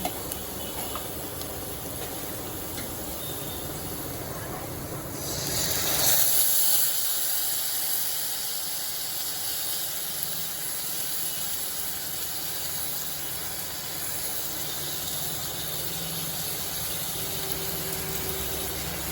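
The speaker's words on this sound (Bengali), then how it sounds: "এই পর্যায়ে আমি আস্তে আস্তে মাছগুলো এর মধ্যে দিয়ে দেব।" Boyal fish slid into hot oil with reddish fried onions sets off a loud, broad sizzling hiss that surges sharply, then settles into a steady, continuous spitting fry.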